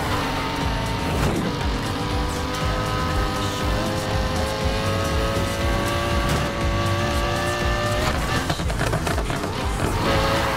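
Loud, continuous engine roar from a Mustang race in the video game Need for Speed Heat, with revving pitch changes and tire squeals throughout, no talking.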